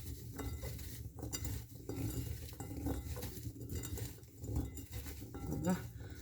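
Salted radish is mixed by hand in a bowl, producing faint, continuous wet shuffling and occasional soft knocks against the bowl, quiet and close.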